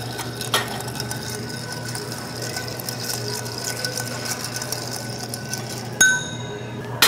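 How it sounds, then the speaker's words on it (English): An old fashioned cocktail stirred over ice with a bar spoon: a continuous soft swirling and light clinking of ice against glass, ending in a couple of sharper clinks near the close. "We'll go ahead and stir like a traditional old fashioned."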